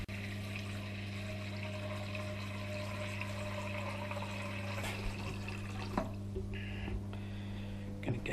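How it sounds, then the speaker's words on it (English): Water running steadily from a tap into a saucepan, a continuous close rush of flowing water with a low hum beneath it, a few clanks near the end, and no talking. "we're going to add some water to this saucepan to boil water"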